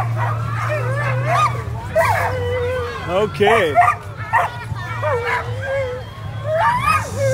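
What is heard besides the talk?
sled dogs barking at the Fur Rondy sled dog race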